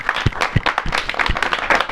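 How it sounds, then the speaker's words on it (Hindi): A short burst of uneven clapping from an audience, loose and scattered rather than thunderous. "आप एक बार जोरदार तालियां जरूर बजा दीजिए"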